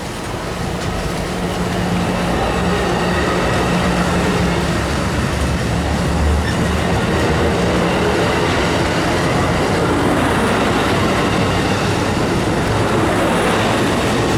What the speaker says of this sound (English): That's Amtrak, YouTube.